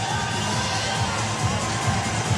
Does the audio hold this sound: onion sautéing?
no